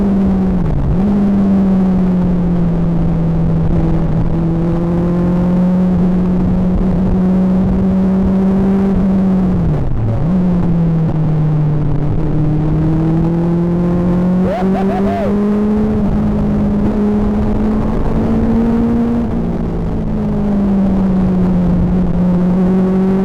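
Legend racing cars on the Knockhill circuit drone steadily close by, holding a buzzing engine note with brief dips and rises as they shift and change pace, continuous with no talk.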